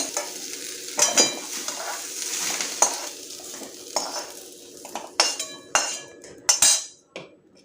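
Shallow-fried food is lifted out of a kadai onto a plate, with a light oil sizzle under repeated clinks and scrapes of a metal spatula against the pan and plate. The sound is close, with no talking.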